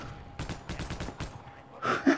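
Automatic gunfire in the shooter game Half-Life: Opposing Force: a quick run of sharp, evenly spaced shots, then a pause and a louder, brighter burst of impact at the end.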